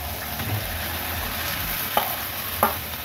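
Masala sizzling in oil in a pan while being stirred for a Bengali mocha ghonto with coconut, a steady close fry hiss with two sharp spoon scrapes near the end.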